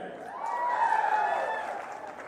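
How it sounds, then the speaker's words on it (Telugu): A crowd at Chandrababu's political speech in Chipurupalle claps and cheers in a sustained swell that rises, peaks and slowly fades. "ఇప్పుడు మీరు ఫ్రీగా చప్పట్లు కొడుతున్నారు"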